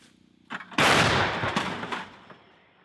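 A single loud gunshot booms nearby, its blast echoing and rumbling away over a couple of seconds.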